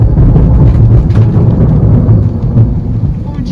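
Thunder rumbles heavily during a thunderstorm at a campsite in Kumamoto, a loud, sustained low roll with rain underneath and no pause through the stretch.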